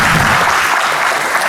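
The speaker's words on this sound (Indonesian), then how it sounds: "Tepuk tangan." A studio audience applauds for a guest singer at an Indonesian talk show, a dense, steady wash of many hands clapping close and loud throughout, with no voices over it.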